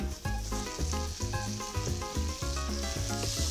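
Onion sizzling steadily in a hot frying pan, a dense crackling fry with faint clinks of stirring, close and alone with no voices.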